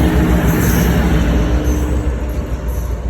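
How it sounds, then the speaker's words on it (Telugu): A meter-gauge diesel train in Kenya rumbles past up close, a steady loud drone of engine and wheels that barely changes over the few seconds. "చూడండి ఆఫ్రికా ఇంజన్ ఎలా ఉందో ఇది ఆఫ్రికా ఇంజన్ అనమాట"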